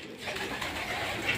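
Pigeons cooing in a home loft while the birds come down to drink, a soft continuous murmur of coos with general loft bustle.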